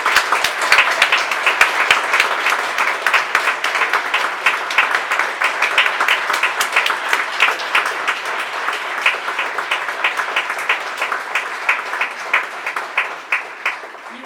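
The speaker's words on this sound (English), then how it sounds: "And so an applause for that." A lecture audience at a UK talk event claps for a visiting speaker. Loud, sustained applause runs for over fourteen seconds and settles into a rhythmic, near-unison pattern toward the end.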